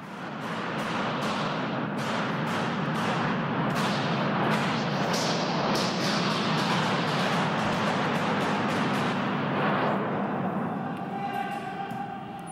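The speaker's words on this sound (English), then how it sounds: "This furious exchange of gunfire." Rapid gunfire exchange inside Parliament Hill's building, including a semi-automatic assault rifle, loud and echoing with many sharp reports in quick succession over a roaring reverberant background, thinning out near the end.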